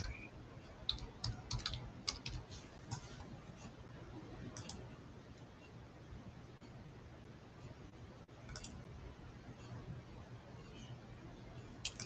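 Typing on a computer keyboard gives light, scattered key clicks in short bursts. It is faint against a quiet hiss and partly pauses midway.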